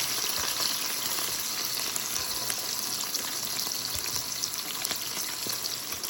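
Liver sizzles steadily in an iron pan after being flipped, a close, continuous frying hiss with small crackles and pops and no talking.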